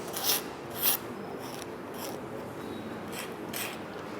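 A knife-sharp carving tool shaving wood while a violin is shaped, giving steady close rasping and scraping strokes with a few brighter bursts.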